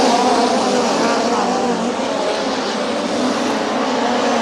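USAC National Midget race cars at Angell Park Speedway during the 2024 Firemen's Nationals make a loud, continuous engine roar that sustains throughout, with a commentator's voice likely blended into the noise.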